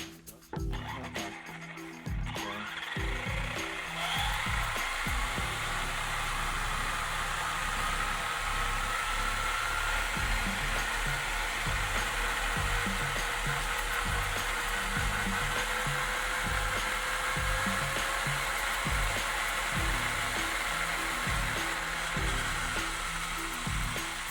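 An RC car tire spins up to high speed to fling off water, rising after a short start into a loud, steady whirring whine that holds for about twenty seconds.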